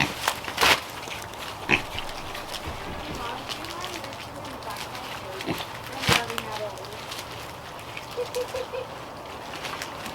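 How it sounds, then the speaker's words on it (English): Pigs in winter eat their feed, with chewing, rustling and soft grunts under ongoing talk, broken by a few sharper knocks and thuds. "I gave the pigs the little ones because it's easier for them to get their mouths around it."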